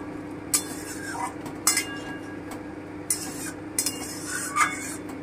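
Pointed gourd simmering in a covered pan is stirred after the lid comes off, with sharp intermittent metallic clinks and scrapes of a utensil against the pan over a low steady background hum.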